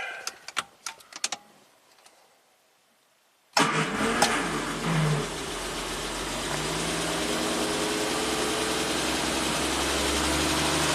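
A few clicks and taps, a pause of near silence, then a 1967 Triumph GT6 engine with an electrical fault catches and runs steadily and loudly at about 1500 RPM with a constant mechanical drone.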